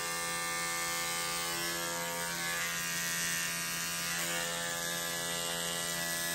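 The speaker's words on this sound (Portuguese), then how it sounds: "Olha essa escova aqui, o ruído que ela faz." An ordinary electric toothbrush runs close by with a continuous, loud buzzing drone and a rattling mechanical whine, steady throughout with no speech.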